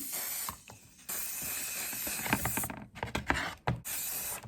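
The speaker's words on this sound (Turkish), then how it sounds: "sprey vernikle vernikliyorum." Spray varnish hissing from an aerosol can onto a craft project of sticks and clothespins, in sustained bursts broken by short pauses, with light handling clatter near the end.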